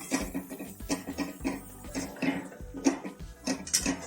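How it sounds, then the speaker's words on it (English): A spoon stirring chicken curry with red chili powder in a pot in a Maharashtrian village kitchen, soft repeated scraping and clinks in a steady rhythm, close and fairly quiet. "Mix it properly."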